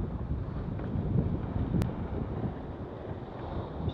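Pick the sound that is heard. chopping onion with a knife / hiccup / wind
wind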